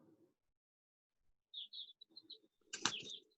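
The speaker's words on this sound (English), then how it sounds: "do you have birds? I can hear them. What kind of I birds? have chick- Chickens?" Chickens kept in a student's room give short chirps and clucks, faint at first, then a busier burst with some fluttering, heard over a quiet home background.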